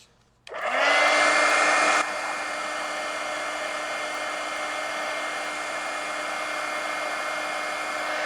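A hair dryer switches on abruptly and blows a steady, loud whirring stream of air close by while drying a wet mixed media art journal page, dropping slightly to a lower setting after a couple of seconds and continuing evenly.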